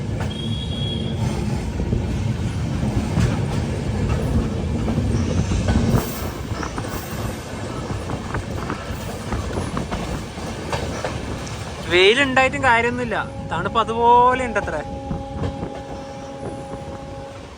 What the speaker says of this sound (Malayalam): വളഞ്ഞാണ് ട്രെയിൻ പോകുന്നത്.